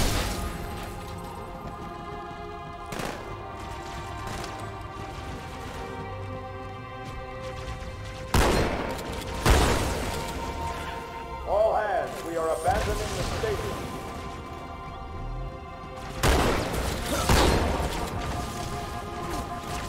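Grenade blasts and gunfire in Halo 2 Anniversary: several sharp booming explosions and bursts break through continuous game noise and music, with a player talking throughout.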